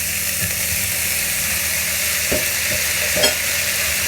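A close, continuous sizzle rises from vegetables sautéing in a pan, broken by a few soft stirring scrapes and clatters of a utensil moving them around.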